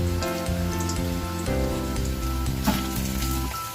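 Cauliflower pieces frying in hot oil for a crispy cauliflower fry give a steady, dense sizzle from start to end, with one brief clink near the pan partway through and no voices.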